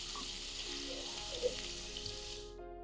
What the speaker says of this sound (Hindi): 1/4 कप कुकिंग ऑयल में डालेंगे 1 टेबलस्पून लहसुन, सॉफ्ट होने तक करेंगे फ्राई।